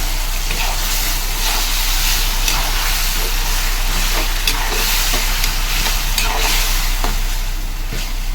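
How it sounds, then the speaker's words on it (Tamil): Plain ground tomato paste frying in a pan for prawn curry, a loud continuous sizzle and hiss with scattered spatula scrapes and a low steady hum underneath, no talking. "இப்போ தக்காளியோட பச்சை ஸ்மெல் போகிற வரைக்கும் நல்லா வதங்கட்டும்"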